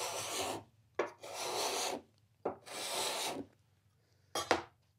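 Card scraper rasping across a wooden surface, taking off shavings in four distinct strokes, close and crisp, separated by short silent pauses.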